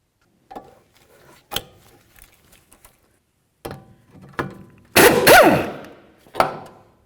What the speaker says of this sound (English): you can put a socket in the center here and then use a wrench along the nut